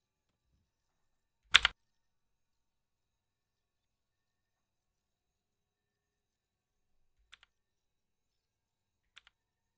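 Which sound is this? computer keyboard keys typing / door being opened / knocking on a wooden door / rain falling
computer keyboard keys typing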